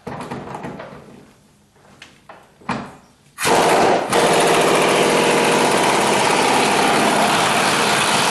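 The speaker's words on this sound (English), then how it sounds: "Let's give it a quick shot with the impact wrench and see what happens." An impact wrench hammers loudly on the body mount bolts of a 1976 Corvette, a sustained rattling burst that starts abruptly after a few quieter knocks and shop sounds and runs steadily to the end.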